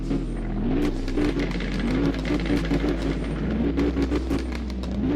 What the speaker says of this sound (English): Let's hear the rev sound.